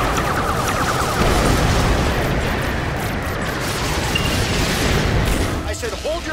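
Starships trade fire in a Star Trek video game, a loud continuous barrage of blasts and rumbling explosions with voices talking over the battle.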